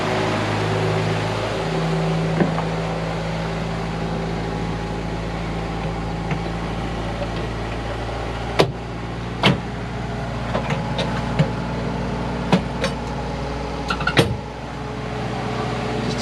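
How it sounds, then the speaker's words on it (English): An Austin Gipsy G4M10 engine idles steadily after a crank start in a tight shop, a loud, even low drone with occasional sharp metallic clanks and knocks over the top. "Starts pretty easy, just one quick pull on the crank."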